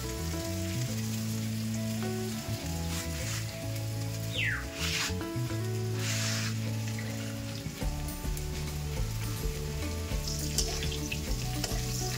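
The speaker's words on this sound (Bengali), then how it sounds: "আমার এঁচোড় আর আলুটা ভাজা হয়ে গেছে" Continuous oil sizzling as young jackfruit and potato fry in a pan, with occasional clinks of utensils and background music running throughout.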